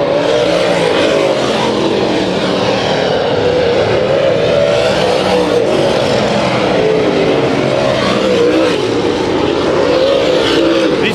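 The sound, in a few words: late model race cars racing around speedway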